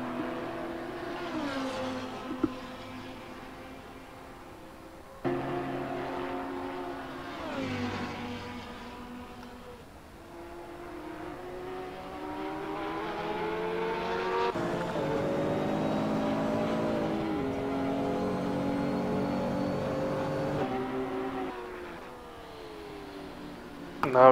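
Porsche race cars drag racing side by side down the main straight at Road America in a sim racing game, engines droning and climbing through gears in long revving pulls, with brief dips at shifts, loud and steady without talk.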